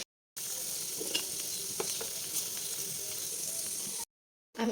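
Paneer frying in a pan, giving a continuous close sizzle with light stirring clicks, bracketed by brief silence at the start and end.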